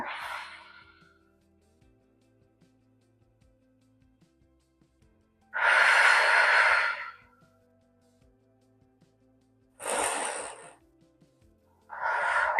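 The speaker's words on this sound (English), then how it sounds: "Let's take a few breaths here." Slow, deep breaths during a yoga session, with a breathy inhale and longer exhales close to the mic, separated by long quiet pauses.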